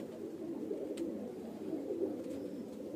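Andhra pigeons, a male among them, coo in a low, steady murmur that runs continuously and fairly faint, close by, with no talk over it.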